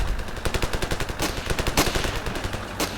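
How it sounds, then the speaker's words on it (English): Rapid bursts of video-game shotgun fire crack out in quick succession, loud and close, with no talking over them. "This one will be a shotgun."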